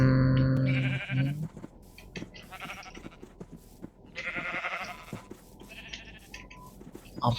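Minecraft sheep bleating in a survival world, several wavering bleats near and loud, repeating at intervals over soft game background sounds.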